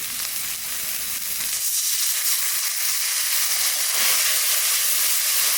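Water splashed into a hot pan while cooking a potato, chickpea and soybean curry hisses loudly, a steady broad sizzle with steam that swells again near the end, with no talking.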